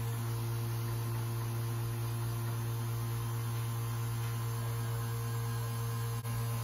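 Vacuum pump running steadily on a vehicle A/C system during recharging, a loud, constant mechanical hum and drone with an unchanging tone and a brief dip near the end.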